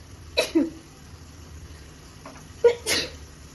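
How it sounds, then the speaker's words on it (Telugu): Two sharp, close sneezes about two seconds apart come from a person cooking brinjal dal in a home kitchen. "మాడింగ్స్ అనుకుంటా తుమ్ములు వస్తున్నాయి"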